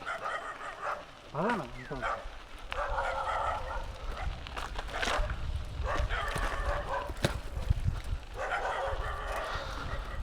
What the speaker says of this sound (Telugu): కుక్కలు తరుముకుంటాయేమో తమ్ముడు